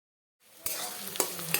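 Bay leaf and onion sizzling in hot oil in a pan for mochar chop curry, a soft frying hiss that starts abruptly after a short silence, with a few louder crackling pops as the pan is stirred.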